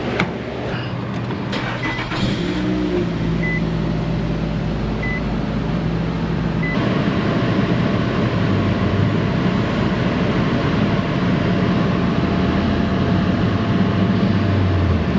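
A Nissan Rogue engine runs steadily during an AC compressor test, giving a continuous close, loud rumble throughout, with a few faint short beeps early on.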